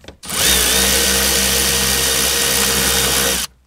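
Power tool driving a thread-locked bolt tight, a loud steady whirring drone that starts abruptly, holds evenly for about three seconds, then cuts off, close up with no talk.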